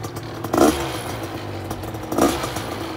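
A Polini 80cc paramotor engine runs steadily after a Walbro WG8 carburettor repair, a rough continuous drone with two brief louder bursts, like blips of the throttle, close by and with no talk over it.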